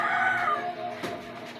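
Chickens clucking in short bursts, fairly close, with a busy outdoor background and no talking.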